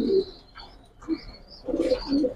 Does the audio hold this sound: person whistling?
no